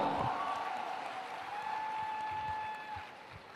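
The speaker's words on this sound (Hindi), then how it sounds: "Come on everyone, जोरदार तालियां" An audience at a Vestige 20th anniversary event claps steadily in a broad wash of applause, moderately loud, with a sustained tone and faint voices underneath as it slowly thins out.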